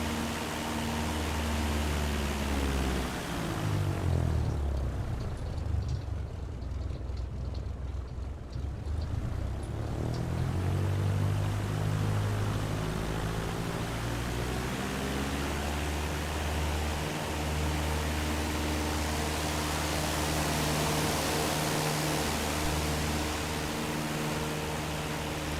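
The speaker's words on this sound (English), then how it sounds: "So it's got dynamic engine sounds on it in different parts of the aircraft. So you can hear the wind in the back." A Grumman aircraft in Microsoft Flight Simulator 2024 gives a steady, loud engine drone mixed with broad wind rush, swelling and thinning as the listening position shifts around the airframe, with no talking.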